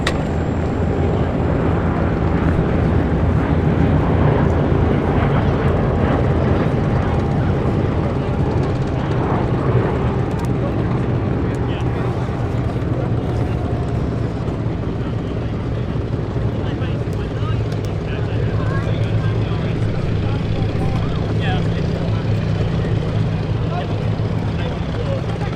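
A formation of WWII bombers flies over the Duxford Battle of Britain airshow in 2024, giving a steady, droning multi-engine rumble that holds throughout while a commentator talks over it.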